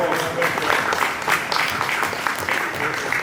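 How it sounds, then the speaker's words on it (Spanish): Audience applause for a speaker at a conversation event, a steady wash of many hands clapping at moderate volume throughout, with faint voices mixed in underneath. "Yo pido un aplauso cariñoso para Alberto"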